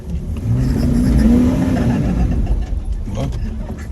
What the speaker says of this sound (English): I'm on the throttle and the thing's not moving